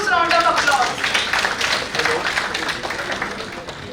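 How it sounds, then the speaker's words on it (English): An audience at an India Japan cultural festival event claps in a dense, sustained round of applause that gradually thins and fades. "Please welcome Professor Fumiko Yokota with a huge round of applause."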